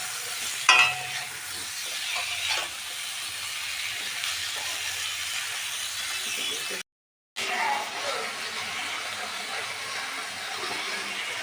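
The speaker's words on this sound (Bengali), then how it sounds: "দিয়ে ভালো করে নাড়িয়ে চাড়িয়ে কলা আমি ভেজে নিচ্ছি।" Green banana pieces frying in a pan with turmeric and chilli powder, a steady soft sizzle with stirring scrapes and a sharp clatter near the start, briefly cut to silence midway.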